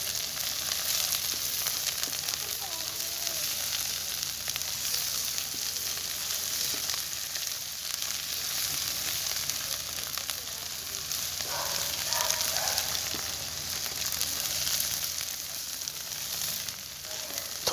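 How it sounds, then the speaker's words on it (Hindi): Garlic fries in a pan while a fish curry is being made, giving a steady, bright sizzle that runs loud and continuous throughout, with faint clinks of stirring partway through. "लहसुन डाल के इसे अच्छी तरह भुनेंगे।"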